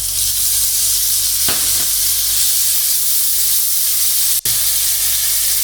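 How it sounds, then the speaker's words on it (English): Tomatoes tipped into a hot pan of oil and turmeric for karahi paneer set off a loud, steady sizzle and frying hiss, with a couple of brief stirring clatters and a sharp knock near the end. "And add tomatoes."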